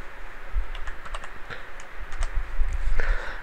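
Typing on a computer keyboard while setting up port forwarding on a Cisco router, with a run of quick, light key clicks at close range over a faint hum. No one speaks.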